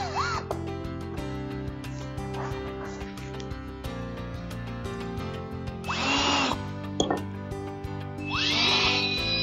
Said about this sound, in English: Now with the holes drilled, we attach the edges.